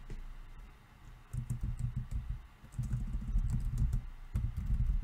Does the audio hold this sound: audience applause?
no